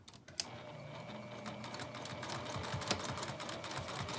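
Sewing machine basting with an eighth-inch seam around the bottom of a zippered double case, a steady close mechanical whir running without a break.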